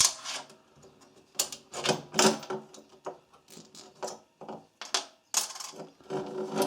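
Small metal washers are removed one by one from a MIG welder torch lead, giving irregular close clinks and light metallic taps with brief rattles between them.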